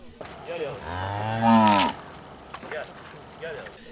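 A cow stuck in a swamp moos during a fire brigade rescue, one long, loud, close bellow with fainter low calls around it, set against outdoor background noise.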